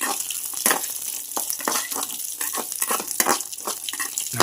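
Chopped almonds fry in hot ghee with a crisp, crackling sizzle, stirred in irregular bursts up close in a home kitchen.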